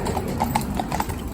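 Hooves of a pair of Friesian mares clop at a steady walk on a slack rein, a quick, even rhythm of close, moderately loud hoofbeats over a low background rumble.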